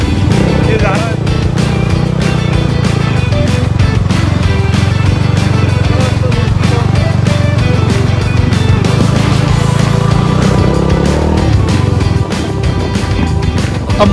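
Off-road motorbike ridden one-handed along a bumpy, muddy trail, its engine droning loud and steady close by for the whole stretch, with a rider's voice talking over it now and then.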